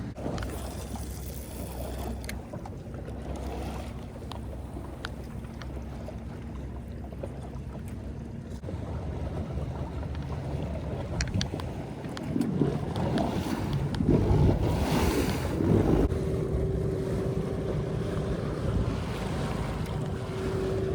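A small fishing skiff cruises across open water near jetties in a strong current, its engine droning steadily beneath gusting wind buffeting the microphone and the wash of waves and spray, rising louder midway.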